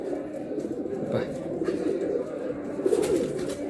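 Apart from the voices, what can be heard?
pigeon cooing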